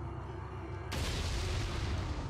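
A cannon fires in Resident Evil 4, a sudden deep boom that rises out of a low background rumble and leaves a broad, sustained roar.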